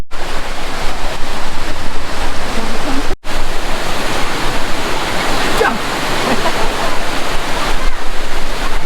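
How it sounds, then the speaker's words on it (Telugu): Steady roaring rush of the Tatiguda waterfall near Araku, loud and continuous with a brief dropout partway through. "చూడండి వాటర్ ఫ్లో ఇది ఇలా ఉంటుంది, చూసారా గైస్?"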